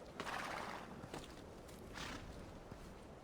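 A horse in the video game Assassin's Creed 2 gives a few faint hoof clip-clops and a brief whinny-like sound. The sounds are soft and spaced out against quiet game ambience.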